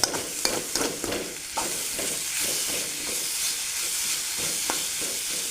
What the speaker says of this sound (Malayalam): ഇപ്പോൾ സവോള നമ്മൾ നല്ലോണം വരട്ടി എടുത്തിട്ടുണ്ടേ